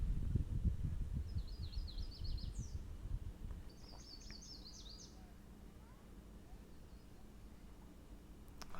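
Killdeer calls in a field recording: two quick bursts of high, repeated chattering notes in the first half, over steady low rumbling background noise, fairly faint and distant.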